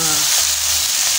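Garlic fries in a pan, a brief loud steady sizzle heard up close.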